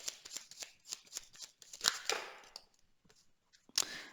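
Tarot cards are shuffled and drawn by hand: a quick run of soft, papery riffles and flicks, then a couple of sharper snaps with brief pauses between them, close and fairly quiet.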